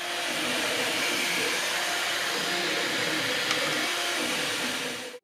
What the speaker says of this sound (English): printing this fast comes with a cost in volume, and this is mainly down to the very strong part cooling fan